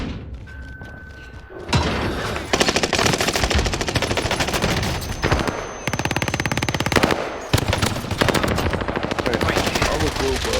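Rapid MP7 submachine gun bursts fire in a video game, loud and close, in long sustained strings with short pauses between them, after a quieter opening stretch.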